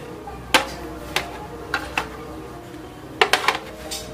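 Several light clinking knocks of metal or plastic molds being set into a steamer, spaced unevenly, with a cluster of quick clacks near the end.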